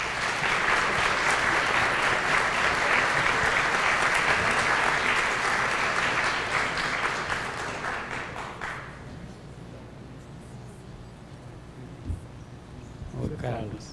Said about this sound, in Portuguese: uma salva de palmas ao Alípio.